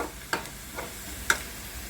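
Onion being stirred in a hot pan for a spiced pea and potato curry, a quiet background sizzle broken by three sharp scrapes of the spoon, spaced well apart.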